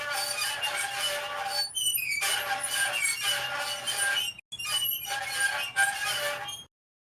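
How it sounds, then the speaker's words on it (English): A squeaky Earth-shaped toy squeaked over and over in long, loud, continuous bursts, broken by short pauses, close by with no talking. "I am the guy who has a squeaky earth and frogs living inside."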